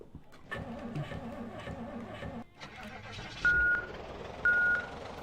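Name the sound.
vehicle reversing beeps in Project Zomboid video game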